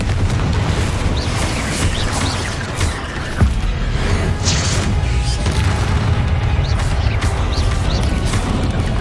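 A Confringo blasting spell explodes in the Hogwarts Legacy video game: deep booming rumbles run continuously, with one sharp crashing hit near the middle.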